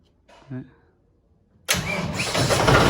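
A John Deere tractor left standing for three months is started on its self-starter: a brief cranking catch, then the engine fires and settles into a loud, steady rumble close by. Someone speaks briefly just before.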